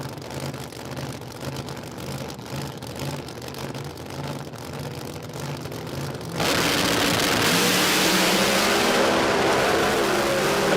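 Outlaw Pro Mod drag car at a drag strip in Australia, a turbo or blower engine burbling before exploding into a loud, sustained full-throttle roar as it launches down the track.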